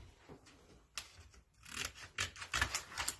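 Scissors snip through craft vinyl sheet at close range, a few crisp cutting strokes and rustles of the material, louder toward the end.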